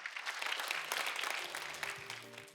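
An audience at the 42nd Catholic Awards ceremony in South Korea claps together in a steady burst of applause, the clapping dense and moderately loud before fading as a tone sounds near the end.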